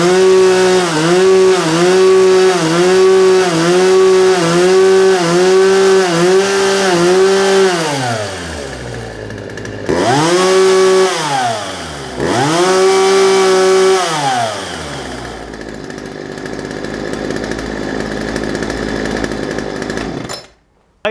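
A 1999 Poulan 2025 chainsaw with a 16-inch bar runs close and loud: a sustained high rev drops to idle, then two short throttle blips rise and fall before it settles into a quieter idle and cuts off.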